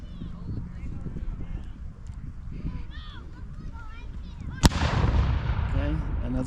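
Horse hooves clop and distant voices murmur before a single loud cannon blast cracks out at a Civil War reenactment in Decatur, Alabama, followed by a lingering rumbling echo.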